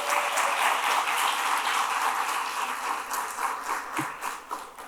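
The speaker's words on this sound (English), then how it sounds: "So let's give Gerren and the folks on his team a round of applause as well." Audience applause at a downtown Washington DC business forum: a full, even roar of clapping from a sizable crowd that fades slightly toward the end, with a faint thump near the close.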